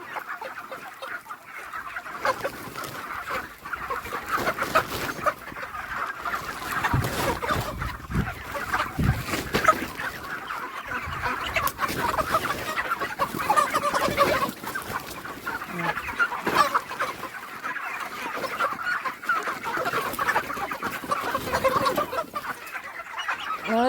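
Chickens cluck steadily on a poultry farm, many birds calling at once in a dense, continuous flock chatter at moderate loudness, with occasional louder squawks.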